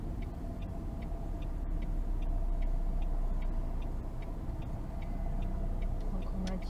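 A car's turn signal ticks steadily while turning left on a driving-test run in Aix-en-Provence, soft regular clicks under a constant road and engine rumble.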